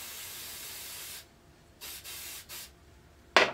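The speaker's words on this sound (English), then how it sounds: "get a plastic bag, and just spray it until it's like a puddle of paint" Spray paint from a freshly shaken can hisses onto a plastic bag in a long steady burst, stops, then comes back as two shorter sprays, followed by a brief sharp hiss at the end.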